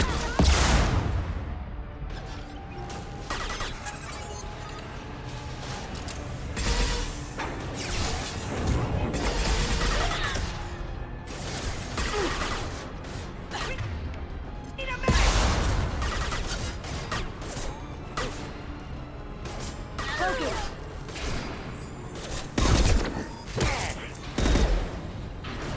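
Gunfire, crashes and booms rattle through combat in the Mass Effect 2 video game, with scattered shots and bursts of impacts at a moderate level and occasional voices in between.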